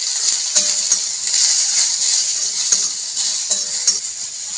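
Ridge gourd peels and green chilli with salt are stirred in a pan, a steady hiss of frying under repeated sharp scrapes and clicks of the spoon against the pan, close and fairly loud.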